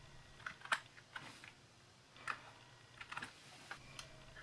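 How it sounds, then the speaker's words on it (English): Keystrokes on a computer keyboard while typing text into Microsoft Paint, coming as a few quiet, scattered taps and short clusters of clicks against a low background hum. "Now type in the text you want."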